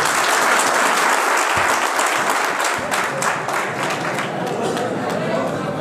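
A farmers' audience breaks into loud, sustained applause after a speech, a dense wash of clapping that holds steady for several seconds with crowd noise mixed in.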